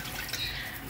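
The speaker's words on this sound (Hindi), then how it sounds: "1 से 2 ग्लास के करीब पानी डाल दें" Water, about one to two glasses, is poured into a cooking pan while making a khoya rice pudding (gajrela), a brief steady splashing rush heard up close.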